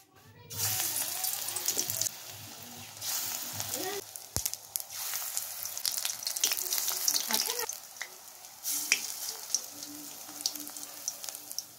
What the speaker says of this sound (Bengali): তো চলো যাতে করে বড়াটা ভেজে দিই।